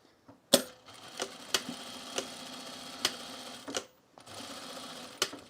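A sewing machine stitching a repair on a pair of jeans, running in short bursts with sharp clacks and a steady whir between, close and fairly quiet, no talking.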